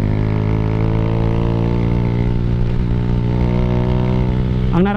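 A Suzuki Raider J115Fi motorcycle with a 57mm bore, 8-hole injector and 30mm throttle body holds a loud, steady high-revving whine in third gear, then climbs in pitch at the end as it accelerates.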